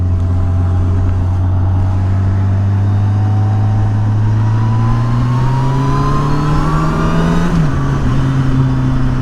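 A 2007 Yamaha FJR1300 motorcycle accelerates in a third-gear roll-on, its engine note rising steadily and loudly from a low drone to a higher pitch before a brief dip near the end.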